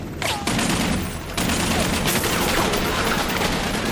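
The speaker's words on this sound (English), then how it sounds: "They're shooting at us!" Chaotic gunfire from a war film battle scene, with a dense fusillade of overlapping shots and bursts filling the scene, loud and sustained with sharp cracks near the start.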